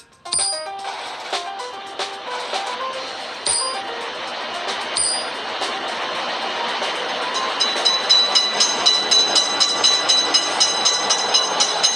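A cartoon train from a video game passes an automatic railroad crossing, with repeated bright bell-like dings early on, then a steady rolling clatter with rhythmic beats that grows louder toward the end.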